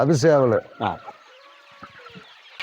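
Tamil country chickens and roosters on a hen farm cluck and call, with a loud burst near the start and softer clucks trailing off while people talk.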